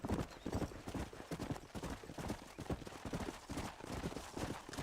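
Horse hooves clip-clop in a rhythmic, close, steady trot across Red Dead Redemption, with a brief whinny-like sound woven in and no talk.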